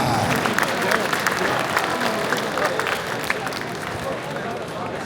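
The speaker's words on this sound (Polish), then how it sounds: "Wielkie brawa!" A crowd claps in sustained applause at a family homing pigeon breeders' festival, dense and continuous, fading slightly toward the end with some voices mixed in.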